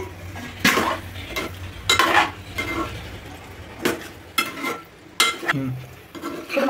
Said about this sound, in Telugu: కారం, ఉప్పు, పసుపు అన్ని ముక్కలు పట్టేలాగా కలుపుకుందామండి